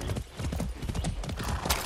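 Horse hooves clip-clop in quick succession with a brief whinny, from a horse in the video game Far Cry 6, loud and close against a busy game soundscape.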